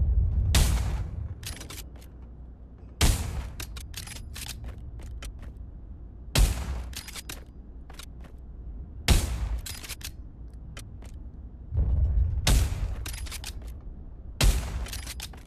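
Lee-Enfield rifle fired in the VR shooter Pavlov, six loud single shots spaced a few seconds apart, each with a sharp crack and rumbling tail; no voices.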